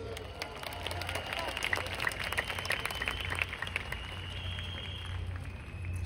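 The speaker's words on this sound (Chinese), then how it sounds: "我们真的要给例会国际一个最热烈的掌声" Sustained applause from a large banquet audience celebrating Riway International at its 15th anniversary dinner in Kaohsiung, a steady dense wash of clapping with crowd murmur and low music beneath.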